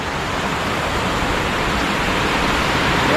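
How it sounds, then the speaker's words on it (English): A small waterfall spills among rocky cliffs, a loud, steady broadband roar of falling water that holds constant throughout with no voices. "smallish waterfall you can see here"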